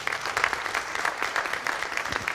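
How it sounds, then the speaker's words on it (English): Audience applause for students at a youth event, a short burst of steady, fairly soft clapping from a crowd filling the room evenly. "let's give these scholars a round of applause"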